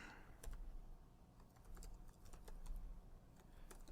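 Keys tapped on a computer keyboard during a maths lecture, a faint, quiet run of irregular clicks spread across a few seconds.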